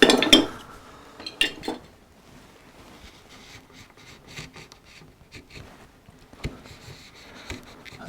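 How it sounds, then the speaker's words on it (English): A skew chisel slicing short-grain wood fibres while undercutting a coastal relief carving, giving a few sharp clicking cuts early on and then sparse, quieter scraping taps with faint knocks, close and with no talk. "That's a skew chisel cutting the fibres there"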